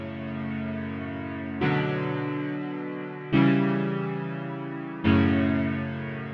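Three long, rich trap synth chords sound one after another, each swelling in at a clear attack and sustaining with a slightly distorted, buzzy tone.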